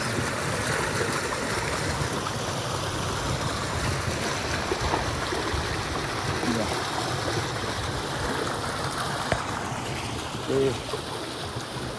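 Steady rushing water pours from a canal outlet into a field channel on a farm, a continuous loud flow that fills the whole stretch without pause.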